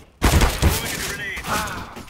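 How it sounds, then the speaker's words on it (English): Grenade thrown in Counter-Strike: Global Offensive, a couple of loud close thumping blasts in quick succession, followed by a fainter rumbling tail. "Throwing a grenade."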